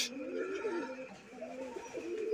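A pair of sky-blue Rajgolla pigeons coo steadily from close range, with overlapping throaty calls rolling on through the whole stretch and no talking.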